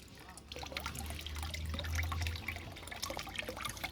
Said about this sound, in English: just a little air pump thing, like I said, a little water pump type thing